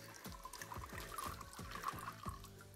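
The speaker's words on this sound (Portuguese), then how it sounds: "Água da fonte." Running water from a public fountain in Esposende, Portugal, a soft steady trickle and splash heard close by for a few seconds with no talking.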